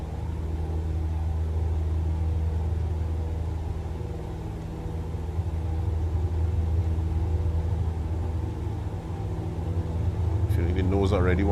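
A propeller aircraft engine runs at full throttle in Microsoft Flight Simulator 2020, a steady loud droning rumble with a rising whine near the end.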